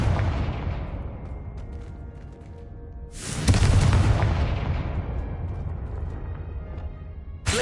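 The Confringo fire-blast spell goes off in Hogwarts Legacy as one sudden loud blast partway through. It follows a rumbling game soundscape and leaves a long decaying roar behind it.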